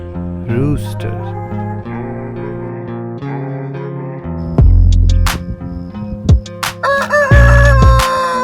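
A rooster on a farm lets out a string of loud, close crows. Its drawn-out calls come one after another, with a few sharp cluck-like bursts mixed in near the end.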